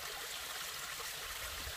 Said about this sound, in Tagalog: Harap na hawakan mo yung tubig, yung spring water